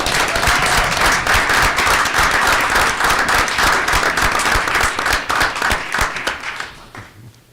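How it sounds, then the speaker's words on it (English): A room at a school district board meeting breaks into applause for a team, many hands clapping briskly with distinct claps standing out, then thinning and fading away over the final seconds. "So let's give them a round of applause."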